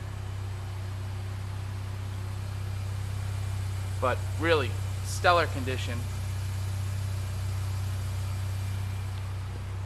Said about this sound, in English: I started it up just so you can kind of hear it run.